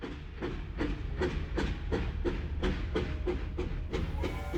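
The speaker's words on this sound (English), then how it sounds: "Elizabeth boarded the train in December 1942." A passenger train runs on rails with a steady clickety-clack of wheels over joints, repeating at an even rhythm under a continuous low rumble, close and constant.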